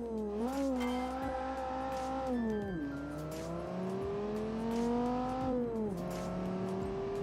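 A car in the Automation video game accelerates hard through several gears, its engine rising and dropping in pitch with each shift, while the tires squeal steadily under the loud, close engine.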